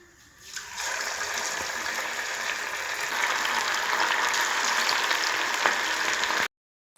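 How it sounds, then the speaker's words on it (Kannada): Marinated chicken kebab pieces frying in hot oil, a steady bright crackling sizzle that starts abruptly, holds and grows slightly louder, then cuts off. "ಎಣ್ಣೆ ಕಾಯಲಿಕ್ಕೆ ಇಟ್ಟಿದ್ದೀನಿ."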